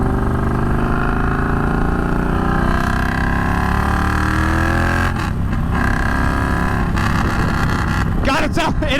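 A Triumph Bonneville Bobber motorcycle engine rumbles loud and close, its pitch climbing steadily as it revs, with bursts of wind buffeting in the later seconds.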